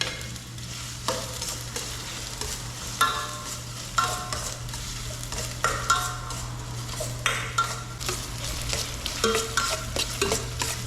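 Ginger sizzles as it fries in a pan and is stirred, with a steady crackling hiss and frequent scrapes and clinks of the utensil against the pan, close up and without speech.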